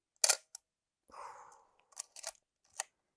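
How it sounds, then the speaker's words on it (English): Film camera fitted with a 28mm f/2.8 lens firing its shutter: sharp mechanical clicks and a brief whirring wind-on, close and crisp in a quiet room. "This one does work, so let's hear the shutter for a second."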